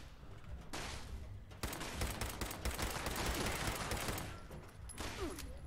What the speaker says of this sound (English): this pipe pistol's got some gnarly recoil